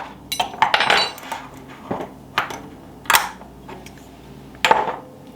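Metal measuring spoons clink and tap against each other and a container while thyme is measured out for a homemade all-purpose seasoning, in several sharp, close bursts with short quiet gaps between them and no talking.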